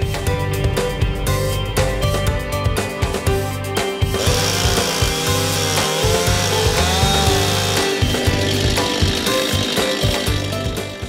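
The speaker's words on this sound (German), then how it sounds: "dann sägen wir ihn ab und dann wird er verladen" A chainsaw roars continuously nearby while cutting down a Christmas tree in a field, its pitch shifting as it bites into wood and revs between cuts, with no voices.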